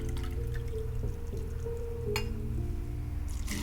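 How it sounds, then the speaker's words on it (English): Boiling water pours steadily from a measuring cup into a blending cup holding a cup of cashews, a continuous close liquid stream with a few light glass clinks, no talking. "I'm going to measure out a cup of boiling water."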